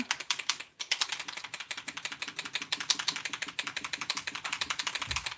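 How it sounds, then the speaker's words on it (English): A gloss spray can is shaken hard so its mixing ball rattles in a fast, steady rhythm of sharp clicks with one brief pause, loud and close, with no voice. "with the gloss sprays, also you want to shake them really well"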